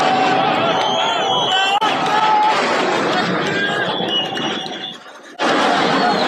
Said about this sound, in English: as you can see them cheering in the streets, screaming Allahu Akbar as the rockets are launching